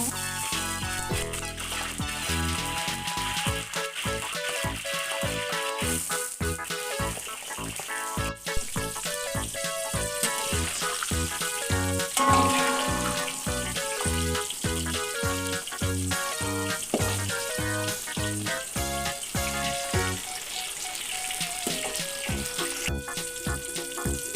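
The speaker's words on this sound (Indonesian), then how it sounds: "Kita goreng terongnya." Sliced eggplant fries in hot oil with a continuous, crackling sizzle that sputters throughout, heard alongside steady background music.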